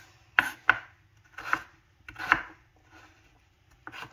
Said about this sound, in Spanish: ya terminando de picar la papa